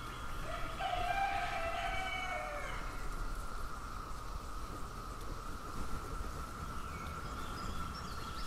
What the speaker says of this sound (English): I thought roosters only crowed in the morning, but I guess maybe this guy is confused.